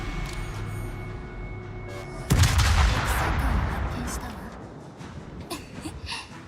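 Naval artillery in World of Warships fires one heavy, booming salvo that rolls and fades over several seconds against a faint steady hum of the game.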